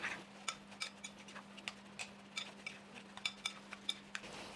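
Tuna cake mixture stirred in a bowl, a utensil tapping and scraping against the bowl in a steady irregular rhythm of soft clicks over a low constant hum, no voices.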